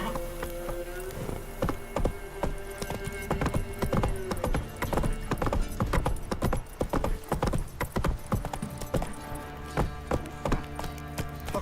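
Galloping horse in The Witcher 3, continuous rapid hoofbeats with tack jingling over a low game music bed, steady and fairly close throughout.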